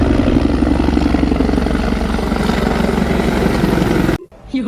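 A loud helicopter roars overhead with a steady, throbbing rotor drone, then the sound drops off sharply near the end.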